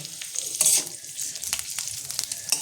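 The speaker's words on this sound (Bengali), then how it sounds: "উচ্ছেগুলো আমি হালকা ভেজে নেব।" Bitter gourd pieces frying lightly in oil in a pan: a steady, close crackling sizzle with occasional louder spatters and stirring scrapes, no voices.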